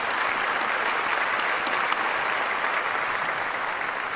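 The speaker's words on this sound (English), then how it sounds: "Ladies and gentlemen, let's give them a round of applause." Sustained, even applause from a large audience at the Virginia Beach State of the City address follows the police color guard, a thick wash of many hands clapping with no pauses.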